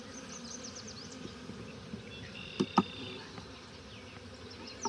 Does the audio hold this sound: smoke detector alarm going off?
no